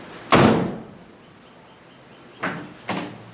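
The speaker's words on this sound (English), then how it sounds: "listen to how nice this door is when it shuts" The door of a 1935 Ford Slantback barn-find car shuts with one solid, heavy thunk up close, followed moments later by two lighter, quicker clunks, with quiet between them and no talking.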